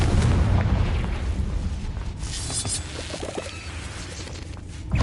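A Confringo spell explodes in the Hogwarts Legacy video game as a loud, booming blast with a rumbling low tail that fades, then another burst hits at the end.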